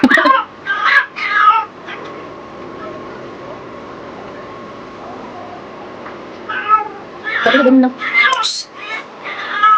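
A pet cat kept indoors while seeking a mate yowls loudly and repeatedly in bursts at the start and end, close by, with a person talking briefly between the calls.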